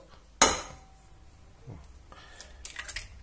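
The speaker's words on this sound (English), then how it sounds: "You just crack 3 eggs in there." An egg is cracked sharply against the rim of a bowl with one crisp knock, followed by soft squishy drips and small clinks of shell and bowl, close and fairly quiet.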